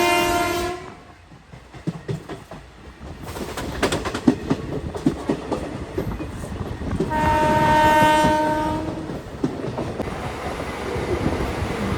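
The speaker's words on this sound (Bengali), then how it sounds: "আমাদের ট্রেনটা কিন্তু এখন ক্রস করছে উত্তরপাড়া।" Howrah–Sahibganj intercity express 13427 rolling slowly past Uttarpara: a steady rumble of wheels and rattling carriages, heard from on board, with a loud horn blast at the start and another long horn partway through.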